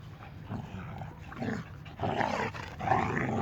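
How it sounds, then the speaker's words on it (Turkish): Young dogs scuffle and play with low growls and small whimpers, fairly close and continuous throughout. "şu an yavruların oyun, çocuk köpekler oyun oynuyor"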